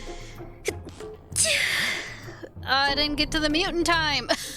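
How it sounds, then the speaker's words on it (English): A person stifles a sneeze with a sudden breathy burst, and excited speech comes before and after it. "trying to hold back my sneeze"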